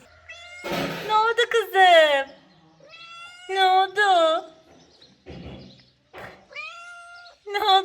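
Several cats meow repeatedly at close range while being fed at home, with someone speaking in between the calls.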